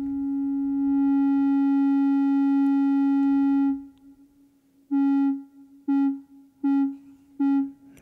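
A steady synth tone from the Jolin Lab Agogô holds for several seconds, then pulses on and off in a regular rhythm under LFO modulation, clean and electronic.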